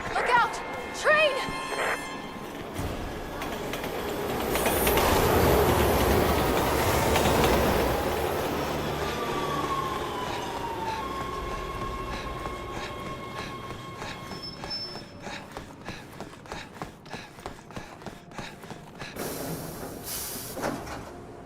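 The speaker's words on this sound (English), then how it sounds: "Look out! Train!" A train rushes past in the Resident Evil 2 horror video game, its rumble swelling loud and near, then giving way to rhythmic clickety-clack and squealing wheels as it fades, with brief game sounds around it.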